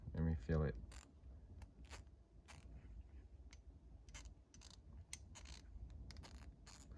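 A Milwaukee 1/4 inch stubby ratchet is worked back and forth, giving quiet, irregular short clicking bursts over a low background, after a brief voice at the start.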